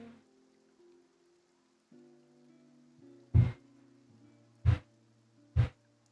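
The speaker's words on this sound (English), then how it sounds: "Looks like rain." Rain falls in Fontaine in the Genshin Impact game beneath soft ambient music, broken by three loud, deep bursts like splashes or thunder claps in the second half.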